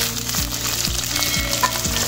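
Whole small onions sizzle and fry in a pan for a Tamil okra kara kuzhambu, with steady crackling and a few rhythmic scraping stirs close up, no talking.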